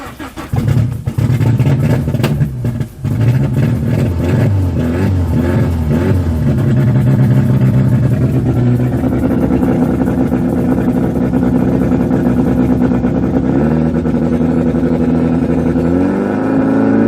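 Turbocharged Honda Civic with a D16Z6 engine revving loudly up close, throttle held open in a long sustained drone that rises and settles, with no talking over it.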